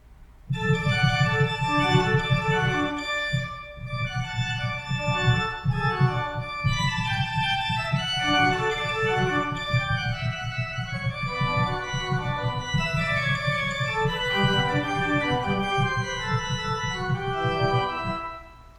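A pipe organ plays rippling, playful arpeggios from Buxtehude's Praeludium in D, BuxWV 139, over a sustained bass, bright and continuous with no talking.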